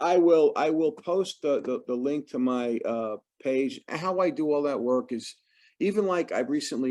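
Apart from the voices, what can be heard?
No everyday noise stands out behind the speech.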